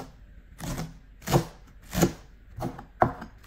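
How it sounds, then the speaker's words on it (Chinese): A knife chops washed Chinese chives on a board in a home kitchen, five distinct, spaced strokes with a crisp, close attack, sounding alone without talk. "韭菜洗净切碎"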